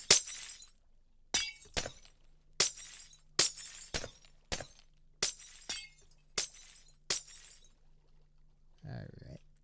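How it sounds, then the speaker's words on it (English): Minecraft: Bedrock Edition glass blocks break in quick succession, about ten bright shattering crashes at a fairly even pace, followed by a short murmur at the end. "I apologize for the loud noise of the glass breaking"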